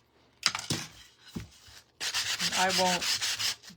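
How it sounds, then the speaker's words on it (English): A coarse sanding sponge rubs along the edges of a printed canvas sign, giving a brief scrape, a pause, then a longer steady abrasive rasp, close and fairly loud, with a couple of spoken words at the start. "I'm going to take the sanding, my coarse sanding sponge, and just hit the edges a little bit"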